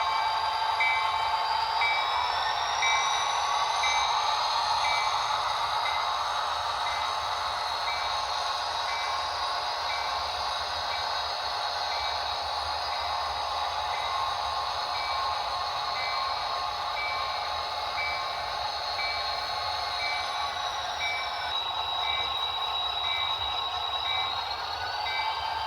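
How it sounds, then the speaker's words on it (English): An old nitrogen tanker rail car is shoved slowly down the track, with a continuous rumbling roll and faint high squeals and tones held steady throughout, no voices. "We're going to shove that old nitrogen tanker down here."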